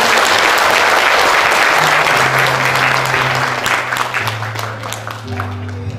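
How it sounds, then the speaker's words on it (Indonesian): Loud, dense audience applause fills a hall after a stage comedy performance for customs employees, sustained throughout and easing slightly toward the end, with faint tonal sounds beneath. "Tepuk tangan sekali lagi Bapak Ibu."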